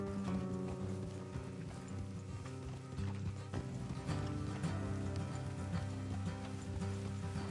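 Horses' hooves clip-clopping in the video game Red Dead Redemption 2, with a steady rhythm of hoof beats under a sustained musical score.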